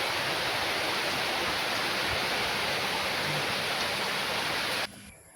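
Heavy rain pours steadily as a dense, loud, even wash of noise that fills the scene, then cuts off abruptly near the end.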